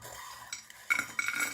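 Homemade fried ramen snack pieces, cooked without oil, clink and rattle into a bowl in a few bright, brittle bursts, fairly close and with no talking.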